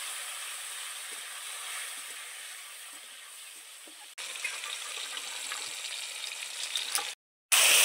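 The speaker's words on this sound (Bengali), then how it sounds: "এবার দিয়ে দিচ্ছি কুচানো টমেটো" Chopped tomatoes frying in hot oil with dried chillies and asafoetida, a steady close hiss and crackle that jumps louder midway, briefly cuts out, then returns.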